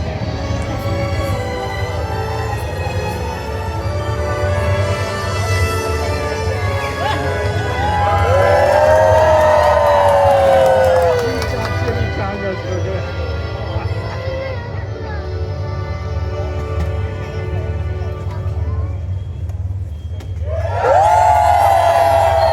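Children in a crowd at Disneyland yell back in unison, a loud burst of shouting and whooping that swells midway and again at the end, with someone talking over the noise between the outbursts.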